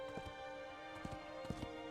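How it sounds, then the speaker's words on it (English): Clip-clop hoofbeats of a limping, aggressive horse in The Last Colossus on PS2, a few uneven thuds over a steady droning game backdrop, fairly quiet. "Wait, a horse?"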